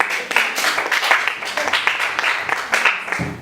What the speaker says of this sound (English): let's clap for our friend